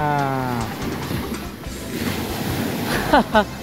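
Steady wash of surf on an Eastern Samar shoreline in the Philippines with a low rumble, a long low moo-like tone at the start and a couple of brief bird-like chirps near the end.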